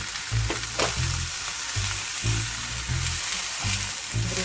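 A paste of green chili, garlic and ginger frying in a pan, with a close, steady sizzle broken by repeated rhythmic stirring strokes at roughly half-second intervals.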